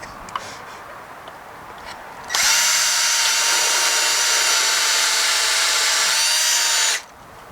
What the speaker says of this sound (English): This is not an impact drill, so it's a little tougher, but this is brick